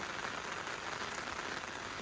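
Steady rain patters on a surface during river feeder fishing, a dense hiss of drops with no pauses, soft and constant throughout.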